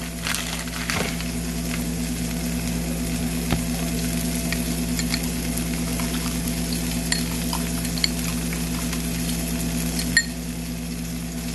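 Cheese melts and sizzles in a waffle maker, a faint steady hiss over a constant electrical hum, dotted with small crackles and occasional sharp clicks, no voices.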